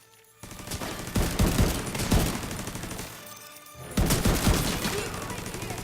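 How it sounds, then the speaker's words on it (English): A turret in The Division 2 fires loud, dense automatic bursts in two long stretches separated by a brief lull. "Let's take advantage while the turret fires and reload our guns here."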